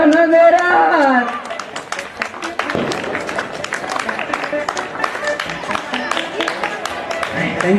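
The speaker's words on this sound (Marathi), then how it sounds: "अरे टाळी वाजवा ना जोरात." A Diwali community event audience in Borivali East claps in a steady mass of scattered hand claps that runs the whole length, mixed with crowd chatter and voices speaking over it.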